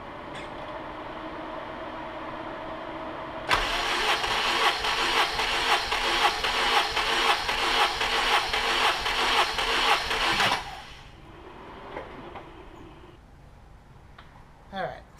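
A K24-swapped Acura Integra engine cranks on the starter during a compression test, giving a steady, rapid chugging rhythm for about seven seconds that then cuts off abruptly, with quieter sounds before and after.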